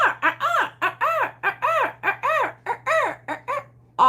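Guinea fowl call without pause, a rapid run of harsh, rhythmic cackling notes, clear and fairly close over a low steady hum.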